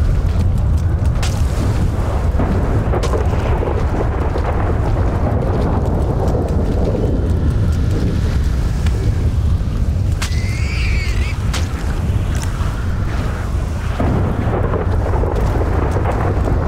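Thunderstorm in a zombie survival video game: steady loud rain and wind with rumbling thunder booms, including a sharper crack near the middle, continuing throughout.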